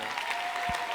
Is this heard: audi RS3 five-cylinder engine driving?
no